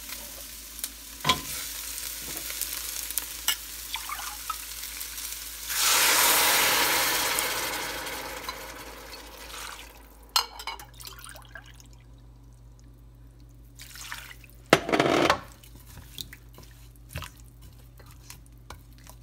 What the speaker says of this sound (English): I will throw in my broccolis and then add water.